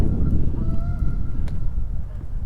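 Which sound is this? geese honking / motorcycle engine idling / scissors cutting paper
geese honking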